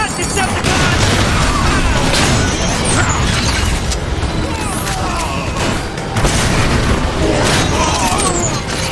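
Dense battle noise with booming blasts from a grenade in Transformers: War for Cybertron, loud and continuous, with scattered shots and shouting voices mixed in.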